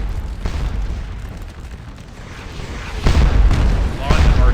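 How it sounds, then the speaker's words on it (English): Heavy booms of artillery fire from the Napoleonic battle game Scourge of War: Waterloo, a deep rumbling backdrop with a couple of louder impacts near the end, while someone talks over it. "A lot of artillery fire obviously coming in."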